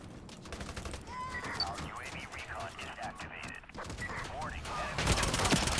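Gunfire in the Ironsight shooter game, heard as rapid, crackling bursts under voices that talk throughout, with a louder volley near the end.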